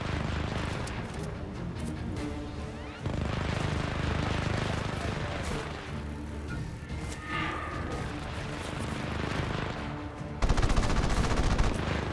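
Video game Just Cause 3 gunfire during Sky Fortress DLC gameplay, a dense sustained barrage of shots and explosions layered under loud action, intensifying near the end.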